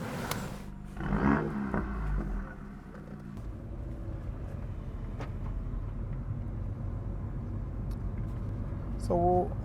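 A Mini John Cooper Works F56 with a 2-litre turbocharged engine drives along, its steady low engine hum and road rumble continuous throughout, with a slight swell near the start and end.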